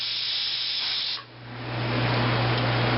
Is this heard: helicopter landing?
no